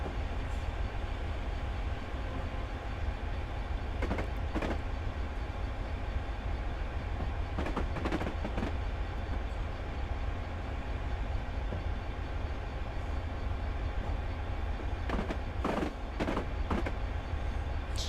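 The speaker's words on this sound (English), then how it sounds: "Let's get the train on the bridge" A Class 66 diesel freight train rolls along the Settle to Carlisle line, crossing a bridge with a continuous low rumble of engine and wagons and occasional short metallic creaks and squeals from the wheels, steady and fairly close throughout.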